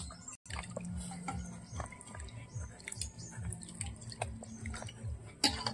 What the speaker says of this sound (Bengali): ডালটা গলিয়ে নিয়েছি